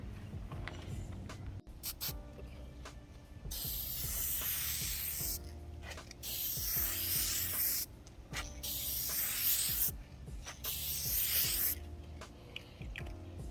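Clear coat sprays onto a car headlight during restoration in several long, loud bursts of close hissing mist separated by short pauses.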